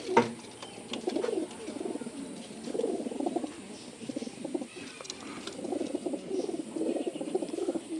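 Racing pigeons in a loft cage coo in soft, repeated low throbbing phrases, several birds overlapping continuously and close by, with no talking.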